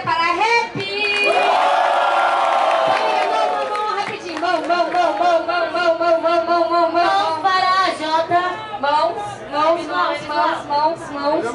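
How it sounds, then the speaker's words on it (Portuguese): Loud crowd cheering and shouting at a Portuguese-language Red Bull rap battle qualifier, a dense roar of many voices that swells at the start, then continues under an MC shouting over it. "Muito barulho à minha direita para a Jota!"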